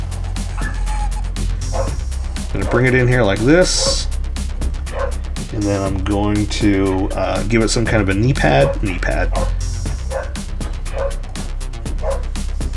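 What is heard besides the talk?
neighbor's dog barking outside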